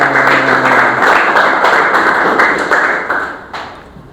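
A group of students claps together in a classroom, a loud dense patter of hands that holds steady and then thins out toward the end.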